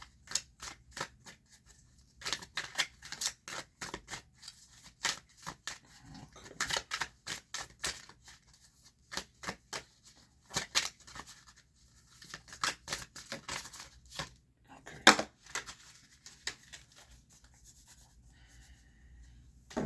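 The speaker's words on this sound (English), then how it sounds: "Spirit, help me shuffle these cards" Tarot cards are shuffled close by, dry papery clicks and riffles in irregular bursts with brief pauses, no voices.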